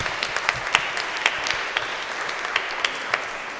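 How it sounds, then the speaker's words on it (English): Audience clapping at a book launch event, a moderate round of applause with a few distinct sharper claps standing out over the steady patter. "Please do clap."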